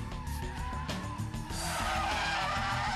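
A BMW spinning through a full 360 degrees, tyres squealing and scrubbing in a sustained rising screech over a roaring engine, loud and close throughout.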